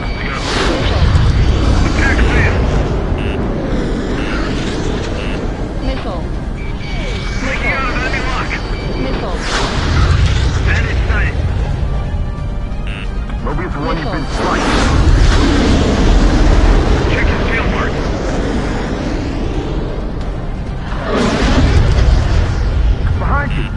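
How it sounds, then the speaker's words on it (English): Roaring missile launches and deep explosions in the Ace Combat aerial combat game swell and fade in waves over a steady jet-engine drone, with radio voices talking throughout. "Mobius 1, the enemy launched a missile."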